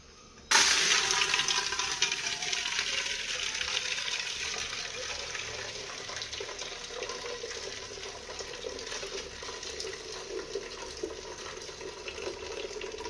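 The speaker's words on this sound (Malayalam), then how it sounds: "നമുക്ക് കഞ്ഞി വാർത്തേക്കാം" Starchy water from cooked rice gruel pouring off and draining in a steady rushing stream, starting abruptly and continuing close by with a constant splashing hiss.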